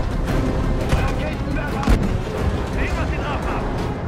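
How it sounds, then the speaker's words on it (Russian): Rocket launches and explosions rumble through a Battlefield V battle, with dense, continuous booms and gunfire-like bursts filling the scene at close range and no clear pauses. "какие-то ракеты летят, взрывы"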